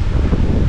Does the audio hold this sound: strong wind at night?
yes